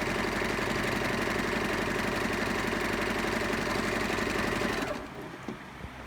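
A Brother Raffine sewing machine runs steadily at speed, stitching a decorative moon-shaped design with small stitches, a loud continuous whirring hum that stops near the end, leaving quiet handling noise.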